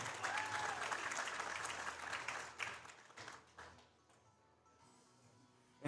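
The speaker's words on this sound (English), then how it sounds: "Give him a big round of applause, Manny Prito." Audience applause for a powerlifter at a state powerlifting championship, steady dense clapping from a crowd for about four seconds, then fading to a faint murmur.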